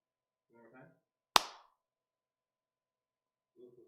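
A single sharp hand clap rings out, crisp and close, between short bits of quiet talk before and after.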